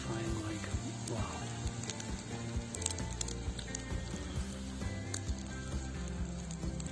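Food frying on a camp stove at a wild campsite, a steady crackling sizzle with dense popping running throughout under a low background rumble.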